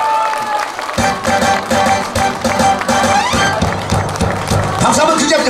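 A party audience applauds at a subscriber-milestone celebration, with bursts of clapping and some crowd noise mixed with lively talk and background sound, fairly loud and close.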